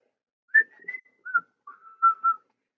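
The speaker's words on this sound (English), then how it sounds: "I just whistled." A person whistles a quick series of about six short, clear tones in a close, quiet room, with brief gaps between the notes and nothing else underneath.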